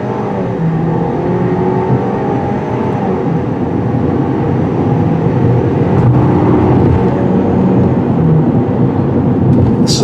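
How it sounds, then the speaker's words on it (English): A 2020 Ford Escape's 2-liter turbo engine accelerating in sport mode, a steady loud drone heard from inside the cabin over road noise, with no talk. "If you're in a hurry, just put it in the sport mode and gun it."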